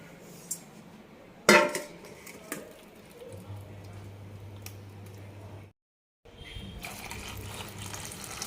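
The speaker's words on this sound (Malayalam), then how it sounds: "ഇനി ഇത് പാത്രത്തിലേക്ക് ഒഴിക്കാം." Ground tapioca batter, thinned with water, poured into a vessel for papad, giving a steady liquid stream over several seconds with a sharp metallic clink of the pot early on and clattering dish sounds afterward.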